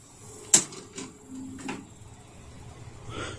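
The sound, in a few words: Toshiba M674 VCR ejecting a head cleaner tape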